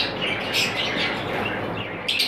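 A breeder pair of albino splitino lovebirds chirps in brief, bright tweets over a steady background hum, the calls close and moderately loud.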